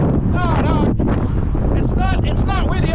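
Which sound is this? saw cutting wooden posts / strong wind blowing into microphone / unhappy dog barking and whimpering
strong wind blowing into microphone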